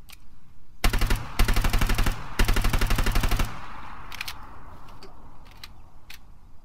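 HK416 rifle fired in the Arma 3 video game: two long, loud, rapid automatic bursts, then fading echoes and a few scattered clicks and single shots.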